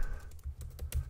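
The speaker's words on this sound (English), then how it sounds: "Let me type in the name of my website here." Close, crisp computer keyboard typing as a website name is entered, a quick run of several distinct key clicks over about a second.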